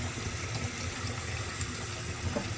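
Tap water running steadily into a sink while plant roots are rinsed, a continuous close splashing stream with low gurgling underneath and no talking.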